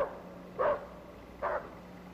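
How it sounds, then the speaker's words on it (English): A dog barks twice in the distance, two short, muffled woofs about a second apart over a quiet background hum. "That dog's still back there."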